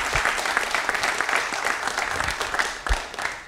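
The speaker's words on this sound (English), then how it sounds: "Let's give a big round of applause to all of our artists" An online cinema event's audience applauding the artists, a lively mix of many clapping hands with a few louder, closer claps standing out, sustained for several seconds with no talking.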